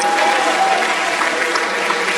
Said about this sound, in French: Est-ce qu'on peut applaudir très fort pour Oracle,